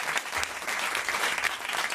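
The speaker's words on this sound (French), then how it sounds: "On vous applaudit quand même, Serge." A studio audience at a French comedy show applauding, a brief, dense burst of clapping from many hands at a moderate distance, with no voices over it.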